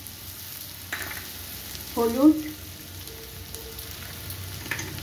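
Garlic and onion frying in a pan with spices, giving a steady soft sizzle with a brief louder burst of stirring in the middle and a single spoken word near the start.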